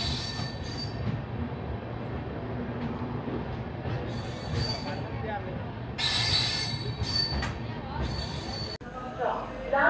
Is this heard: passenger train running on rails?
yes